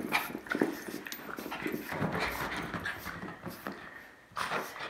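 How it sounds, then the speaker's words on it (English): A dog playing indoors with a toddler, giving short excited whimpers, pants and scuffling, with a few sharp vocal bursts scattered through the moment at close range. "Monica playing with her Aunt Anna, my mom's dog"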